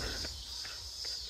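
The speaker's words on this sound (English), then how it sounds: "Damn, those cicadas." Cicadas drone in a steady high-pitched buzz along a Chicago boulevard, with faint repeated footfalls of a runner passing beneath the insect chorus.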